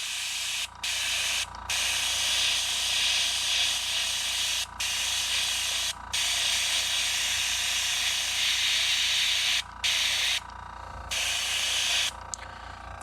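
Airbrush spraying copper shad paint onto a crankbait fishing lure at low air pressure, a steady close hiss running almost continuously with a few brief pauses between passes.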